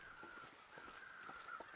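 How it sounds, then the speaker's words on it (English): A crow cawing in the snowy wilderness of the video game The Long Dark, a few harsh caws repeating faintly over a steady wind-like hiss in the distance. "There's a crow off to our left as well."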